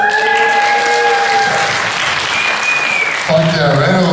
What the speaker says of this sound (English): Ladies here tonight, beautiful ladies, give yourselves a round of applause